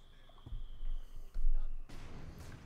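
Mortar fire in Company of Heroes 2, a few dull low thumps followed by a louder blast that trails off, with a faint voice talking underneath.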